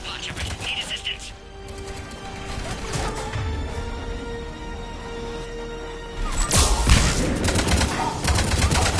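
Gunfire crackles during a Mass Effect firefight against Cerberus troops, scattered sharp shots and rattling bursts that grow denser toward the end, mixed with game voices and ambient hum.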